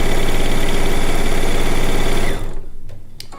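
A sewing machine runs steadily, loud and close, as four quilt blocks are stitched together, then stops after about two and a half seconds, leaving only faint handling noise.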